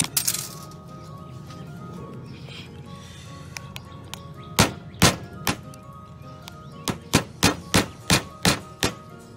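A nail is hammered against an iPhone 6s screen: a series of sharp metallic taps, sparse at first then a quick run of about eight evenly spaced hits, close and loud over a low steady hum.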